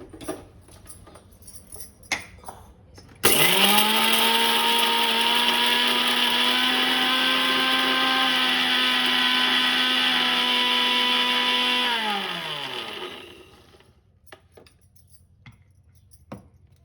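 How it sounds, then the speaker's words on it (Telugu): A kitchen mixer grinder grinds spices for a ridge gourd curry, starting abruptly with a loud, steady motor whine that holds for about nine seconds before winding down and stopping, with light clinks before and after. "ఈ లోపల మిక్సీ చేసుకుందామండి."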